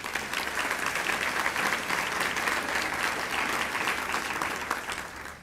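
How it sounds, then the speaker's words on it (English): An audience at an academic workgroup meeting for Project South Texas applauds the staff, a steady, dense wash of clapping that holds at even strength from start to finish. "please give them a round of applause"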